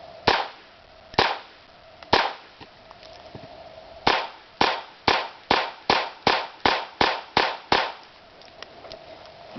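A Beretta 81 pistol fires rounds fed from a Beretta 84 magazine: about thirteen sharp, loud shots, three spaced apart at first, then a rapid, evenly paced string of ten, with nothing else heard.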